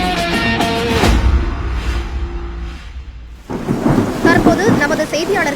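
A thunderstorm in a film scene: loud rolling thunder crashes over heavy, steady rain, with a whooshing swell and a brief lull before the downpour surges back.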